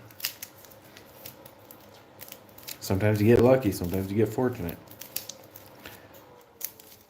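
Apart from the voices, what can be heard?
shuffling a deck of playing cards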